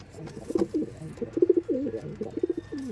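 Pigeons in a loft coo in repeated soft, throaty rolling phrases, close and clear, several calls overlapping over a quiet background.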